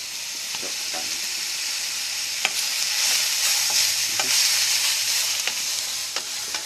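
Onion, chilli and aubergine sizzle and fry in a pan with steady broadband crackle, while sharp spoon-and-pan stirring knocks land at irregular intervals throughout; no talking.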